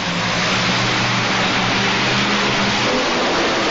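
Loud, close engine roar from a two-wheel-drive pulling tractor at the 1988 TNT Indy Super Pull, a steady heavy drone that wavers and stumbles slightly as it cuts out.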